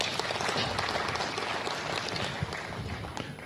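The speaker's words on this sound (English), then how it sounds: "May we clap for that?" An audience claps together at the Eastern and Southern African Trade and Development Bank annual meeting, a dense, steady patter of many hands that holds throughout and fades slightly near the end.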